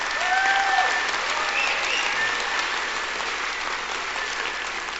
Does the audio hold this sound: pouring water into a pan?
no